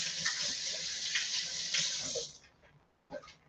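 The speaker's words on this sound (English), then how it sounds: "just going to wash my hands" Tap water running into a sink while hands are washed, a steady close hiss that stops briefly, then returns in a short splash.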